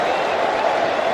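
Cricket crowd at Lord's applauding a four during an England versus Australia Ashes Test, a brief steady wash of clapping and crowd noise.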